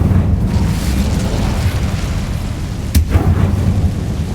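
Incendio fire spell cast in Hogwarts Legacy: a loud, steady roaring rumble of flame with a sharp crackling burst partway through, close and continuous, no talking.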